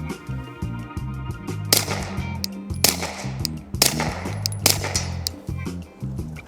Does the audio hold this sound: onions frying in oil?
no